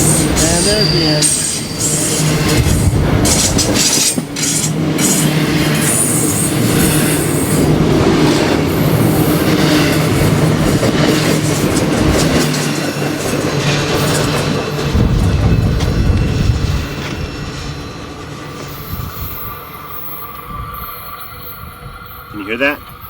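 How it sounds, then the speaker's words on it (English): A long freight train rumbles past close by, steady heavy rolling with clanking cars and some wheel squeal, fading slightly near the end as the last cars go by. "Long trains. I think America has the longest trains in the world."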